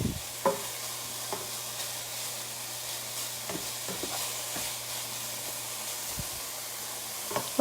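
Ground pork browns in a skillet for a ziti dish, a low steady sizzle broken by sharp spatula scrapes and taps at irregular intervals. A faint hum runs underneath and nobody talks.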